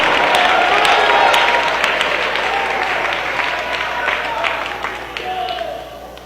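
A church congregation at a Pentecostal service applauds loudly and steadily, dense clapping filling the space with cheers rising through it, then slowly tapering near the end.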